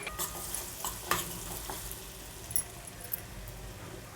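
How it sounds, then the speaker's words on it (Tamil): Carrots sautéing over low heat with turmeric in a pan for carrot pickle, giving a soft steady sizzle broken by a few light stirring scrapes and clinks of the utensil. "சிம்லேயே வச்சு வதக்குங்க."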